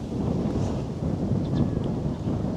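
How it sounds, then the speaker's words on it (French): Strong wind by a large lake in Kunming, Yunnan, China buffets the microphone in a steady low roar throughout, with no clear talk. "Il y a beaucoup de vent aujourd'hui."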